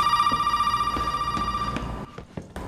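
A telephone rings in the Resident Evil 7 video game with a steady electronic trill that stops partway through, followed by a few soft thuds and clicks.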